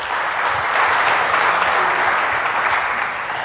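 A church congregation claps hands continuously and loudly, a dense, steady burst of applause with no pauses.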